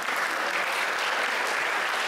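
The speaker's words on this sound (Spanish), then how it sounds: "Gracias por el aplauso" A dense burst of audience clapping at a Día de la Cruz university event, brief and evenly loud from start to finish with no voices rising above it.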